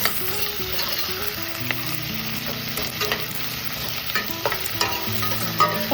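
Baby eggplants sauté in hot oil with salt, sizzling steadily close by while the spoon scrapes and stirs in irregular knocks. Nobody speaks.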